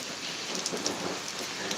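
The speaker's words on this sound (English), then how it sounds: "appears the rain's picking up" Heavy rain pours steadily during a thunderstorm, a dense, continuous hiss with scattered louder drops and splashes, close and with no speech.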